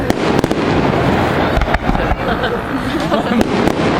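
Fireworks burst at Walygator amusement park, a run of sharp cracks and thumps over a constant crowd rumble, with people chatting nearby.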